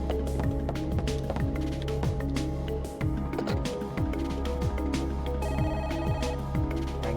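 Telephone ringing in the Parasite Eve video game, a steady electronic ring that repeats loudly and continuously over game music and ambient sound.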